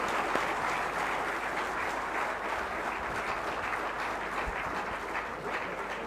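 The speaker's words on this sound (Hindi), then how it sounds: "जोरदार तालियों से आप लोग कृपया स्वागत करें।" Sustained, dense applause from an audience at a Jharkhand police ceremony where newly promoted IPS officers are honoured by the Chief Minister, steady and fairly loud throughout with no talk over it.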